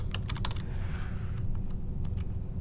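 Someone types quickly on a computer keyboard during a job search, with a quick burst of close key clicks at first, then lighter scattered taps over a low steady hum.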